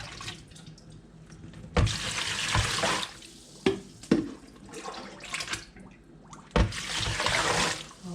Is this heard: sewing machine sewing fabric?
no